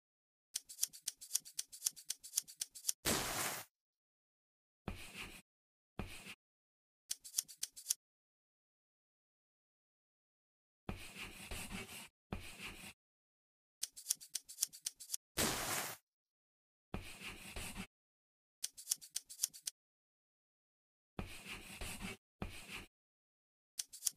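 Scissors snipping through fabric in a sewing dress-up game, heard as bursts of rapid crisp cuts separated by silent pauses, close and clear with no talking.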